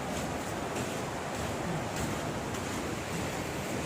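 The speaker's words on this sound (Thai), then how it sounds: "น้ำไหลแรงครับ" A steady, powerful rush of flowing water roars without pause, loud and close, from a strong waterfall stream at Huai Chan waterfall, Khun Han, Sisaket.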